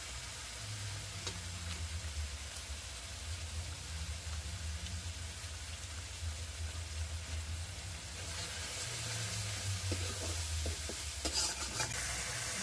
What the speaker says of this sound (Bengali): হলদি গুঁড়ো দেওয়ার পর ভালো করে কষে নিয়েছি